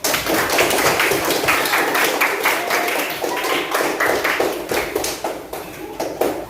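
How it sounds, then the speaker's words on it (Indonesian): A group of students claps together in a classroom, loud and close, with a brisk, slightly uneven rhythm of sharp hand slaps sustained for several seconds. "Tepuk tangan."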